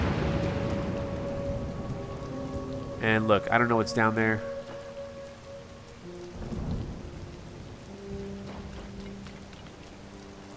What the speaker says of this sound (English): It can't just be a coincidence that it's just constantly raining all the time.